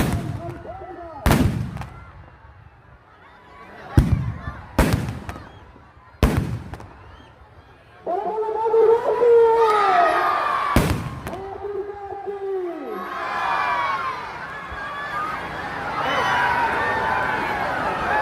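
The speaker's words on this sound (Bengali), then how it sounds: "এখন যে আতশবাজি দেখছেন সেটা হচ্ছে ঝুলন্ত বোমা" Hanging bomb fireworks at a Ravan Dahan festival in Jhalda go off in sharp, loud cracks, then a crackling run of bursts, heard outdoors with a crowd and voices around.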